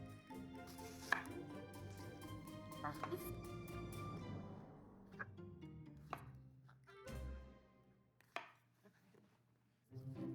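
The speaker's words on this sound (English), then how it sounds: "Cut my onion." A knife cuts an onion on a board, giving a few sparse, sharp chops spread unevenly over a steady tonal background.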